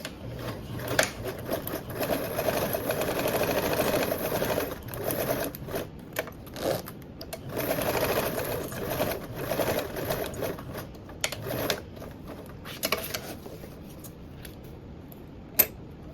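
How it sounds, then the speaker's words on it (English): A sewing machine runs a quarter-inch seam in long steady bursts of fast rhythmic stitching, pausing briefly between runs, loud and close with no talk. "And then we're gonna stitch with that 1/4 of an inch seam allowance, starting and stopping at those markings."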